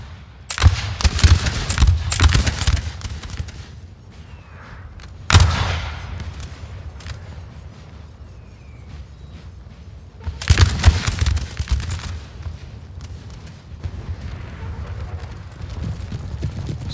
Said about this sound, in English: The French lines are firing.